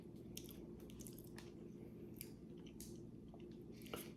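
Someone chews a soft, chewy-centered Trader Joe's fig snack close to the mic, making quiet, moist squishing chews in an irregular rhythm with no talking.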